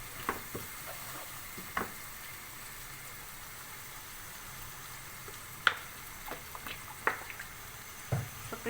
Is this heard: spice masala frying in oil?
yes